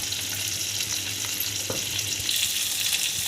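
Bangda mackerel fish, Maharashtrian rava-coated, fries in hot oil in a pan, a steady close sizzle and crackle running throughout with no talk.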